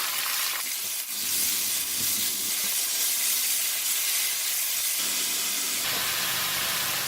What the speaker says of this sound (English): First, I'm going to put in the Eryngii mushroom because they take longer to cook.